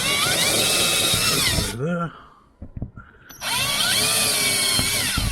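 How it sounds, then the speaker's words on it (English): A Lidl power drill bores holes in a plastic storage shed: a loud, high whine runs steadily, stops briefly for a short spoken word and some clunks, then revs up again. "and there with my trusty Lidl's drill"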